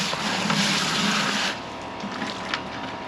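Water rinsing through a holed bucket holding live sand fleas caught for surf-fishing bait, a steady broadband splashing and draining wash that runs louder at first, then eases to a softer trickle with a few small splashes.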